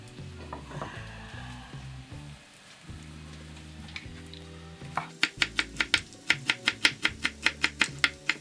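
A knife chops parsley on a board with quick, evenly spaced sharp taps, close and clear, starting sparse then becoming a steady rhythm over a faint background of kitchen sizzling.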